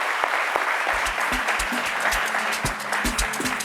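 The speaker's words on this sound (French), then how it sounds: "sous vos applaudissements." A studio audience on a midday television talk show applauds to welcome two entrepreneur guests, a dense, steady clapping close by with a few sharp individual claps and faint voices.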